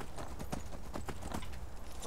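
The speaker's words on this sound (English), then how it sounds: "See, now you can gallop." A horse gallops in the Skyrim video game, its hooves striking in a quick, steady rhythmic clatter, close and clear with no voices over it.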